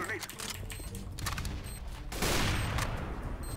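In CS:GO, a jumping enemy fires a P90 in rapid bursts of submachine-gun fire, close and loud, with the firing growing denser toward the end and a voice faintly present underneath.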